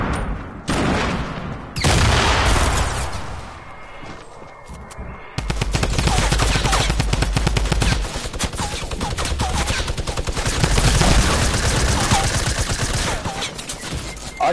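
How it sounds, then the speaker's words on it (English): Rapid bursts of video game weapon fire and explosions from spammed rocket launchers, loud and dense, filling the clip after a brief quieter stretch. "This is why I hate rocket launchers"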